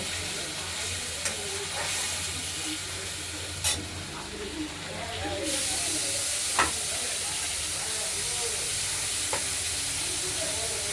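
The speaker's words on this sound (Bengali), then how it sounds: "এবার মশলাটাকে আলু ডাঁটার সঙ্গে কষিয়ে নেব" A spice paste with tomato is fried together with potatoes and vegetable stems in a pan for a fish curry, giving a continuous hissing sizzle with occasional scrapes of stirring, alone and close.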